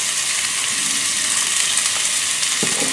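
Jumbo shrimp stir-frying with garlic and ginger in a hot pan, giving a loud, even sizzling hiss heard close. A brief clatter comes near the end.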